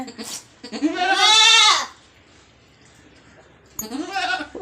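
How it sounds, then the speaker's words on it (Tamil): A goat in labour giving birth to kids lets out two loud, close bleats, a long wavering cry followed after a pause by a second, shorter one. "ஆடு குட்டி போடுறத போய் பார்க்கலாமா"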